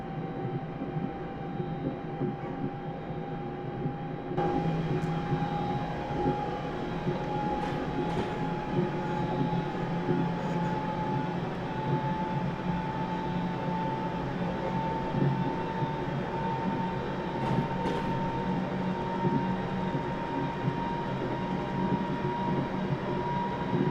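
A Class 350 electric multiple unit running on the fast line toward Euston in Train Simulator 2017, a steady rumbling cab drone with a rising motor whine and occasional faint clicks over rail joints.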